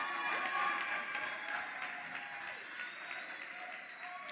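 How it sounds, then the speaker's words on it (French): Audience applause for a prize winner at a final awards ceremony, steady clapping from a moderate crowd that slowly eases off. "On applaudit pour lui."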